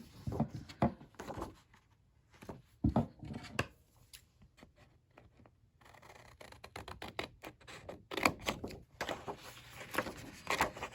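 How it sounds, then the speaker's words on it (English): Scissors snip through paper scraps being trimmed to size for a 4x4 mini album, a few crisp cuts and rustles in short bursts with quieter pauses between, close and fairly faint. "Okay, so I'm gonna cut out this size."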